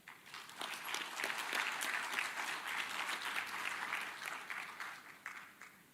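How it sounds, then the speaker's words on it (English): Graduates and guests at a university graduation ceremony give a round of applause, a fairly distant, even patter of many hands that rises and fades over several seconds. "You can give yourself a round of applause again."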